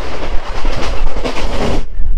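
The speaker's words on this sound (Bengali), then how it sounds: "এই মুহূর্তে আমাদের ট্রেনের স্পিড দেখো 90+, 100।" The Haldibari–Kolkata Intercity Express runs at around 90 to 100 km/h, giving a loud, continuous roar of wheels and carriages with a steady rattling clatter heard from inside the coach. The roar drops off abruptly near the end.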